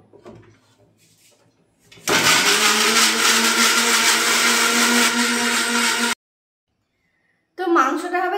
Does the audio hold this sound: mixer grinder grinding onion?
yes